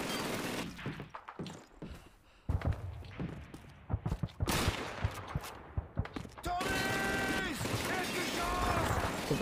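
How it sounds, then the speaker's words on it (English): MG-42 machine gun fire in the World War II shooter Call of Duty 2, with bursts and scattered shots, mechanical clatter and a sustained rattling stretch near the end, mixed with game battle noise. "MG-42. Thank you for a better gun."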